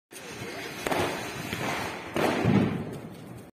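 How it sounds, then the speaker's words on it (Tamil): Diwali firecrackers bursting outdoors during the festival: a few dull thumps and cracks over a noisy background, fairly near, with bursts swelling toward the end. "அஜய் பட்டாசு பிடிக்கிறார்."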